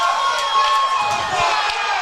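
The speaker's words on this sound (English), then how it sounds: "I'm not sure what the crowd's yelling about." A crowd yells and cheers at a varsity ice hockey game, Varsity vs South St. Paul. A sustained roar of many voices fills the rink, with faint commentary underneath.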